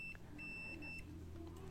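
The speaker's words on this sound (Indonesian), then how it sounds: "ini yang nyambung atau bunyi bip dari tester ini, multi tester ya" Thin, steady electronic tone from a multimeter in continuity mode while probing the circuit board of a 9-inch Android car head unit with no audio output, sounding in a few short separate beeps over a quiet workbench background.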